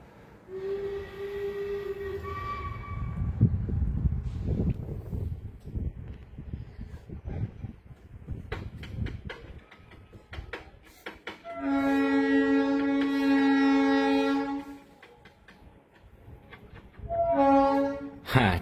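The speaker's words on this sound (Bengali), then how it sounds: "এটা হচ্ছে টয় ট্রেনের আওয়াজ।" Darjeeling toy train heard near a hillside homestay, with a rumbling, clattering run past broken by several long whistle blasts, the loudest and steadiest in the second half, and no talk.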